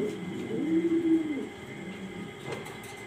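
Pigeons kept for sale coo in a soft, rolling call that swells and fades over about a second, followed by quieter murmurs against a faint background hum.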